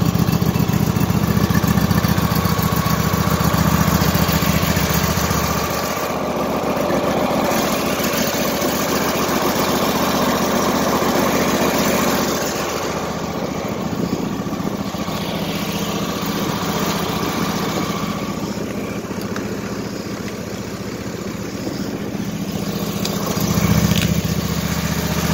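A Husqvarna YTH2454 riding lawn mower engine idles steadily with a constant droning hum, close and fairly loud, dipping slightly partway through before settling back.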